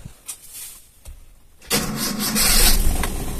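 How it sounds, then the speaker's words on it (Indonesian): A car engine is cranked and started to circulate water through the cooling system. A few soft clicks come first, then the engine catches and settles into a steady, moderately loud idle. "sembari kita hidupkan mesinnya biar bersirkulasi airnya"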